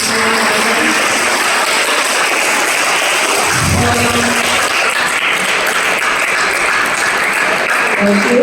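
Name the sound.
audience applause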